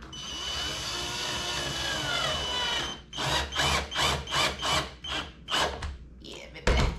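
A power drill whines steadily, then runs in a series of short rhythmic bursts, fairly close and loud.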